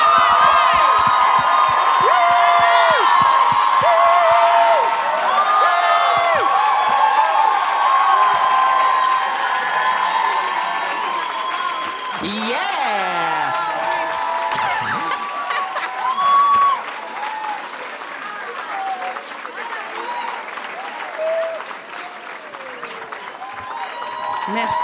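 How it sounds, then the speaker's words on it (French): Loud live theatre audience applause with cheering and whoops filling the room, sustained throughout and tapering slightly near the end, at a live show for actors Véronique Cloutier and Pascale Renaud-Hébert. "Je veux qu'on fasse un tonnerre d'applaudissements pour Pascal Renaud Hébert et Véronique Clout"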